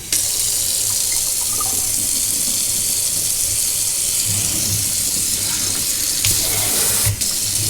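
A kitchen faucet runs steadily into a sink, a loud continuous splashing stream close by, with a brief knock near the end and no talking.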